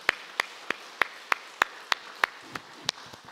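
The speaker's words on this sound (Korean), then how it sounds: "그 놀라운 하나님께 우리 감사와 큰 영광의 박수 올리겠습니다." A church congregation claps in praise, giving about a dozen sharp, evenly spaced claps that sound more like a single near clapper or a small group than a full crowd. No one speaks.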